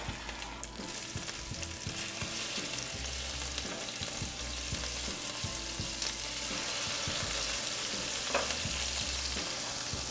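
Pork chops sear in a pan with rosemary and whole garlic cloves, giving a dense, continuous sizzle with faint rhythmic ticks throughout.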